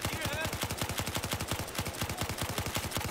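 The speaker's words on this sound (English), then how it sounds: "Once I took out the fucking suppressor, LMG started working. I gotta stand still to shoot this thing." Light machine gun in Battlefield 4 firing rapid sustained bursts of evenly spaced loud shots, a dense continuous rattle heard close up.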